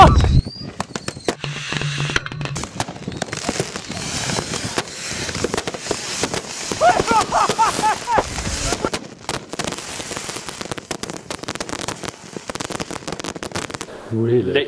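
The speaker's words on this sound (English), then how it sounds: "So we've got 120 rockets all strapped to this massive wheel. They're all going to go off in sequence." A spinning wheel strapped with 120 firework rockets going off in sequence at ground level, giving a long, dense run of rapid crackling bursts and whooshes that stays loud throughout.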